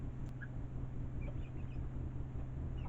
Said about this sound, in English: Just a bunch of cute chicks hanging out in the run.